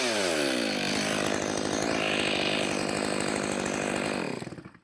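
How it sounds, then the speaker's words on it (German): Close, loud chainsaw sawing freehand through the upper lid of a wooden log for a fountain, a steady high engine whine under load with a rasping cut, then cutting off and dying away at the end. "Dass ich eine ungefähre Richtung mit der Kettensäge habe."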